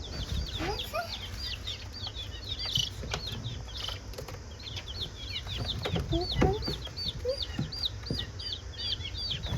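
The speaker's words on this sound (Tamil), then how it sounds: "500 கோழி குஞ்சு." Many chicks peep and cluck continuously at moderate distance, a busy flock chorus over a steady low background rumble.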